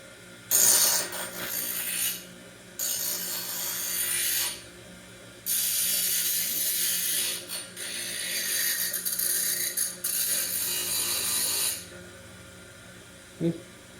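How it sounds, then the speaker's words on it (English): Cut metal pieces having their sharp edges and corners rounded over, heard as several sustained loud grinding bursts of a second or more each, with short pauses between them and a brief knock near the end. "Just going to knock the sharp edges off from the cuts, round the corners over"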